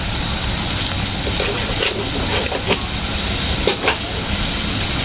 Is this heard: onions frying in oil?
yes